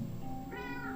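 An elderly pet cat named Fat Cat gives a single drawn-out meow, close and clear indoors, rising in pitch partway through.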